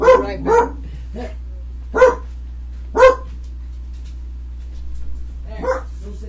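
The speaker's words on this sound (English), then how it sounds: "I apologize for the barking dog." A single excitable dog gives sharp, close barks, a quick pair and then isolated ones spaced about a second apart, followed by a softer whine near the end.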